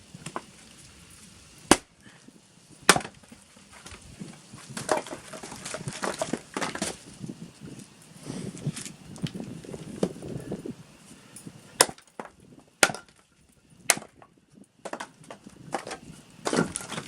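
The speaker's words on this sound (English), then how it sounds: "For the easier stuff to split, it's easier to swing the one-handed 6," A homemade six-pound maul splits wood by hand outdoors, with sharp, loud cracks of steel striking wood at irregular intervals and softer knocks and handling noise between them.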